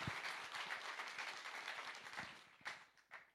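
An audience applauds a French Olympic silver medallist during a talk event, a steady wash of clapping lasting a few seconds with a couple of louder bursts near the end.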